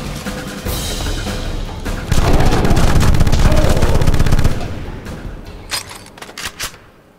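Rapid automatic gunfire from a machine gun in the video game Afterfall InSanity, a loud sustained burst of dense shots for a couple of seconds, then scattered single reports and quieter clatter.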